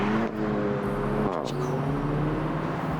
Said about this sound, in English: It's a sports car. Listen to it.